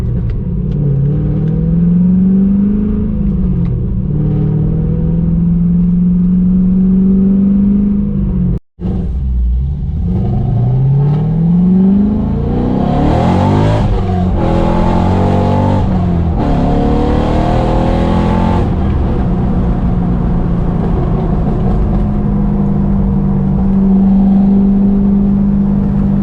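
A cammed Cadillac CTS-V V8 rumbles loudly and close at idle, then revs and pulls away with rising and falling engine tones before settling back into a lopey idle.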